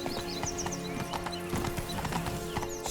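A horse gallops in The Witcher 3, its hooves clip-clopping in a fast, steady rhythm with a brief whinny, loud and up front.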